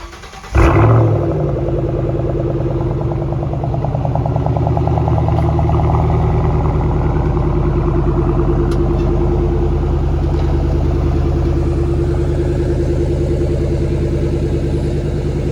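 A 2014 Shelby GT500 Mustang fitted with a Borla axle-back exhaust fires up with a sharp burst, then settles into a loud, deep, steady rumble held close by for the rest of the stretch, without any voices.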